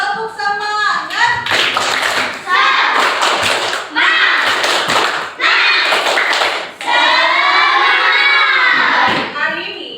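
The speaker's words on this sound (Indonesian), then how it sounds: "Tepuk semangat." Schoolchildren in a classroom perform the rhythmic 'tepuk semangat' clap, sharp patterned claps in bursts mixed with loud chanting and shouted voices, the group fully joining in between pauses.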